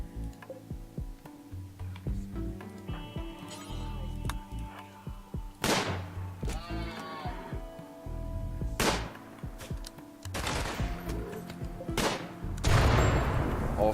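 Colonists shoot from a firing line in RimWorld, a top-down colony video game. Scattered sharp gunshots ring out at irregular intervals over a busy bed of small game ticks and clicks, with a louder burst near the end.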